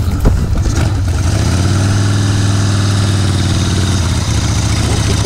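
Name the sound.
Harley-Davidson motorcycle engine started and idling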